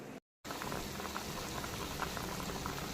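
Chicken boiling in water in a pot, a steady bubbling and popping roar that drops out briefly near the start and then resumes, close and continuous with no voices.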